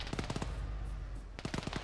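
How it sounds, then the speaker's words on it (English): .50 cal machine gun fire in a combat video game, two bursts of heavy rapid shots, a quick rhythmic string at the start and another near the end, with a short lull between them. "She's getting messed up by this 50 cal on the left."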